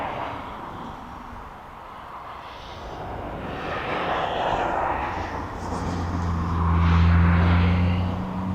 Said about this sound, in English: Got a Ryanair 737 MAX 8